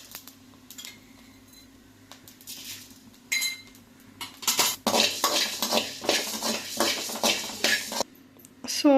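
Mustard, coriander and cumin seeds roasting in a dry pan, stirred with a metal spoon: quiet at first, then a busy stretch of close scraping and clinking strokes with a faint sizzle underneath.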